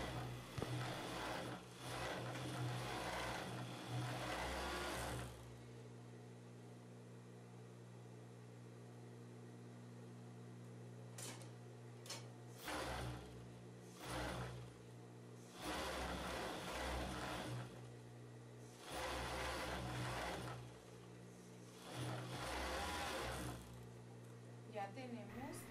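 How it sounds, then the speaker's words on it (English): A sewing machine stitches the elastic leg ends of homemade summer shorts in several loud bursts of rapid whirring that stop and start again, with quieter pauses between runs and a voice talking at times. "Also, sew the ends of the leg."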